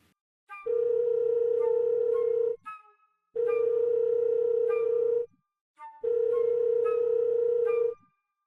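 A telephone line repeatedly sounds a steady electronic tone in three long bursts of about two seconds each, separated by short pauses, loud and close with no talking, at night in a Telugu short film.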